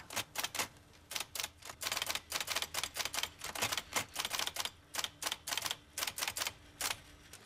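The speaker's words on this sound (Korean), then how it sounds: "드라이만은 새로운 타자기를 구해 글을 써나갔고" A new typewriter in East Germany is typed on at close range: a rapid, uneven run of sharp mechanical clacks with short pauses, and no other sounds.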